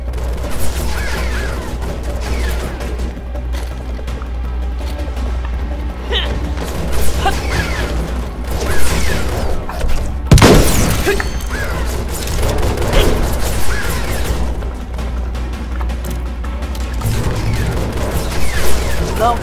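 Bursts of rapid gunfire and loud blasts crash repeatedly over a constant low rumble, with a sharp explosive hit near the middle, in a shooting section of the video game Final Fantasy XV.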